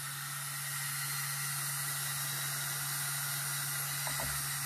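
A Black & Decker RTX rotary tool runs steadily at its lowest 12,000 RPM setting, giving a constant close hissing whir with a low steady hum underneath and no speech.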